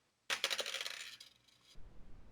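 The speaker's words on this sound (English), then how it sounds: "go ahead and roll your dice" Dice clatter across a board game surface in a quick, bright rattle of tumbling clicks that lasts about a second and a half, followed by a quieter muffled rumble.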